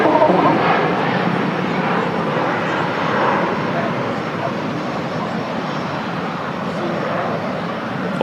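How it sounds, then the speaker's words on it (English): Cathay Pacific Airbus A350-900 with Rolls-Royce Trent engines taking off at Manchester Airport, a loud, steady broadband engine roar sustained throughout, heard from a spotting position. "Awesome sound there. Rolls-Royce Trent engines once again. Make an amazing sound."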